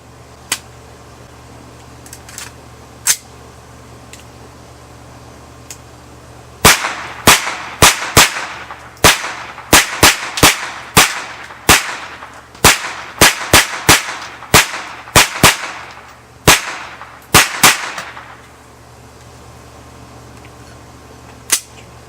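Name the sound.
rapid fire from Sig Sauer MPX PCC 9mm carbine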